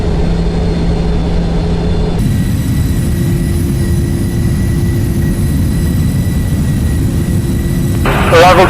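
A Boeing 737-800 jet takes off at Schwechat with a steady, loud, broad engine roar throughout, and faint voices underneath.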